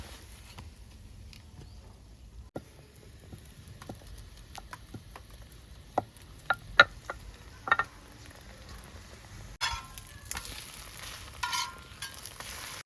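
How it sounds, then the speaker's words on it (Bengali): Chicken pieces fry in a pan until browned, a quiet low crackle with scattered sharp pops and ticks from spatula stirring, a scraping burst near the end, close and without speech. "কীভাবে লাল করে ভেজে নেব"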